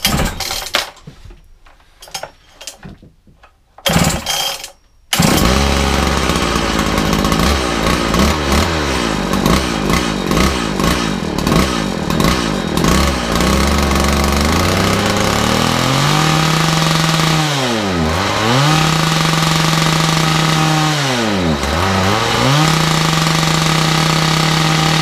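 A Makita DPC6430 petrol disc saw with a carburetor being tuned sputters through a few stuttering pulls and brief catches, then fires up and runs loudly, idling with rhythmic revving swells rising and falling twice near the end.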